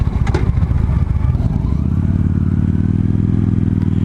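A 2015 Victory High Ball motorcycle idles loud and close with a deep throbbing engine, a sharp mechanical clank early on as a gear engages, then a steady low rumble.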